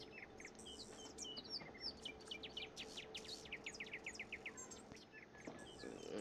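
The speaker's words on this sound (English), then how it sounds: "We hear a lot of birds chirping." Quiet, faint birdsong in the Roblox game FANF: rapid chirps and trills repeat in short bursts over a soft, steady ambient hiss.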